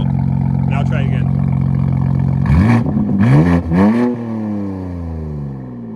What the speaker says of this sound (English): try a few revs in the normal. And then press M2 twice on the steering wheel.